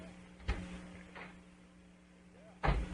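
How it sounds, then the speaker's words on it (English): A door is opened with a sharp knock-like click, a softer rattle, then a louder thump and clatter near the end, close by and with no talking. "I'm opening the door."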